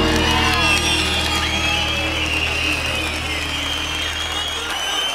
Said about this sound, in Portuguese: Agradecido pelas palmas.